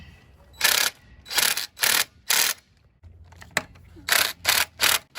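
A ratchet tightens wheel bolts on a 1968 Ford F250, several bursts of rapid close clicking in short repeated strokes with brief pauses between them.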